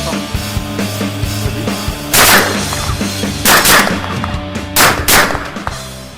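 Shotgun blasts fired at starlings during pest control outdoors, three loud broad bursts spaced over several seconds, with birds and faint rustling between shots.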